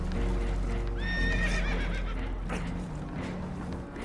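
Spooked horses in Red Dead Redemption 2 whinny shrilly while aboard a boat taking on water, with clopping hooves over a heavy, constant low rumble.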